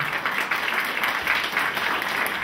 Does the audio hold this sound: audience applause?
yes